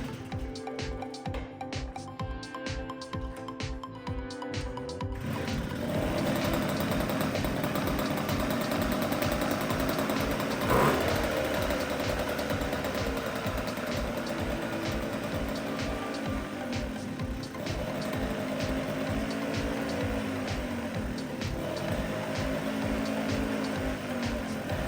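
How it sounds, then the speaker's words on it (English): A Puch moped engine cranks over with quick repeated pulses, then catches around five seconds in and runs steadily on choke, a loud, close, buzzing two-stroke idle that holds without dropping out. "it was time to try to start this bike up."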